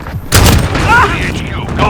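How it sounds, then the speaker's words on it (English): A stun grenade goes off in Call of Duty Modern Warfare with a sudden loud boom and a ringing aftermath, with a voice speaking faintly under the blast. "Throwing stun!"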